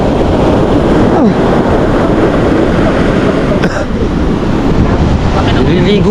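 Big ocean waves roar as a constant loud wash of surf, heavily buffeted by wind against the microphone, with no clear breaks.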